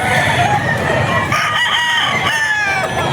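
Roosters and chickens at a pet market, with a close, loud crow stretching across the moment over a background of clucking birds, unbroken throughout.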